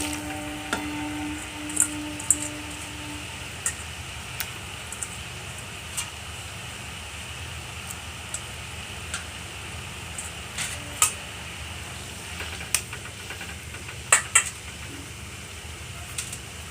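Boiled papaya goes into melted sugar in a pan for a sweet chutney and is stirred, a soft continuous sizzle with scattered sharp clicks and scrapes of the spoon against the pan.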